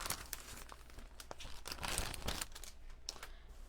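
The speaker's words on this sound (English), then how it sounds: "let me go ahead and pull out our cards here" Greeting cards are pulled out of their packaging, a close run of crinkling plastic with sharp crackles and a few tearing rustles, fairly quiet and without talk.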